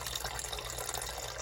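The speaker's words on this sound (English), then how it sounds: "So I'm adding some more distilled water" Distilled water pours steadily into a batch of raspberry rose African black soap shampoo, a close, even splashing trickle with a soft hiss and no voices.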